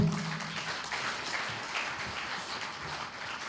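Audience applause at a Democratic Party leadership candidates' joint campaign rally in Busan, a steady dense clapping that fills the whole stretch at moderate loudness with no talk over it.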